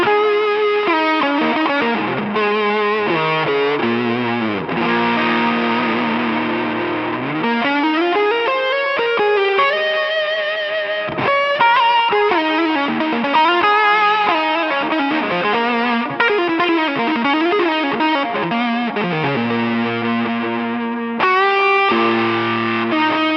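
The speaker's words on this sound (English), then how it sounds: "It gets you into this like FET distortion, tube driver" A James Tyler Studio Elite HD electric guitar on its bridge pickup plays through FET-style distortion, with sustained overdriven chords and gliding, bending lead lines running loud and continuous with short breaks.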